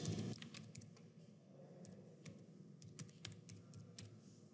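Quiet, close keystrokes on a computer keyboard as HTML code is typed, irregular clicks in short bursts against a faint background.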